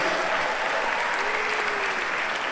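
Steady audience applause fills a hall at an Americana music awards show in the UK, a dense, even wash of many hands clapping at a constant level with no voices over it.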